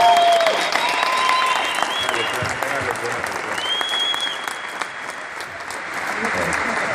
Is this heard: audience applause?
yes